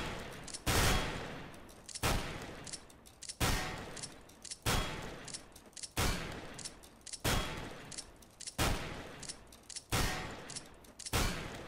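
Glock fired in burst mode while jumping in CS:GO, a regular series of loud, sharp gunfire bursts about every second and a half, each one a quick cluster of shots that trails off, with no talk.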